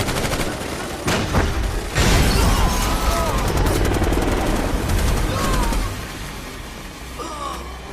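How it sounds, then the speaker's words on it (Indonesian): Bursts of heavy gunfire from a helicopter crackle through a loud, chaotic action-film scene, with booming impacts and a droning rotor rumble underneath, dense and continuous for several seconds. "heli itu pun menyerang mereka berdua dengan hujanan tembakan"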